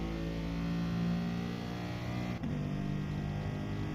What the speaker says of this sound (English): Even sounds like a big lazy V8 from the in-car view.